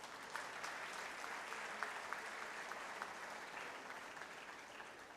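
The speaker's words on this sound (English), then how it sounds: "I request you to give her a big round of applause." An audience at a helmet handover ceremony claps in a soft, continuous round of applause, faint and distant, with scattered sharper claps and no speech on top.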